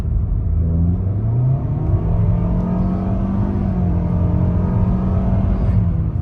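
A car engine drones steadily from inside the vehicle while driving with the front intake baffle removed, a low rumbling hum that rises slightly in pitch as it accelerates.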